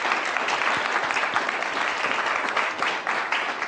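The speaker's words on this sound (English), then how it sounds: "Thank you, Chris, for a round of applause." A conference audience claps in sustained, dense applause that fills the room evenly from start to finish, with no single voice standing out.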